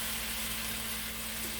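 Spinach sizzles in a hot pan with a steady, close, dense hiss of frying that continues without a break.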